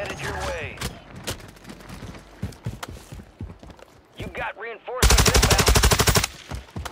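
Rapid automatic gunfire rattles in Warzone 3, a long sustained burst near the end after scattered shots and in-game effects, with someone talking over the action.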